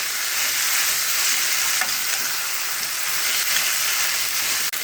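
Spice masala frying in a pan for a Karnataka bassaru and beans palya, giving a dense, steady close-up sizzle with faint stirring scrapes throughout and no speech.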